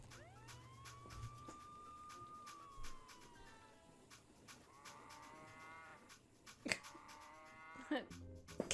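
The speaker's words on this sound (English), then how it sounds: "Cow mooing sound." A cow moos in a Nancy Drew computer game, one long, drawn-out low call that bends and fades, followed by quieter game sounds and a few sharp clicks, with background music.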